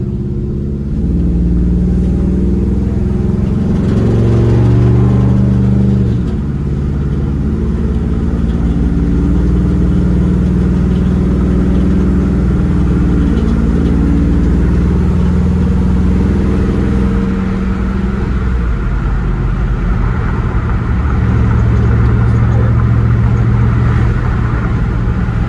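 A 1998 Ram 1500 van with a swapped Hemi engine cruises on the interstate, a loud, steady engine drone with shifting harmonic tones and road roar continuing throughout, rising briefly as it accelerates.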